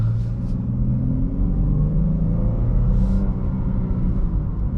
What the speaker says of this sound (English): Good sounding engine.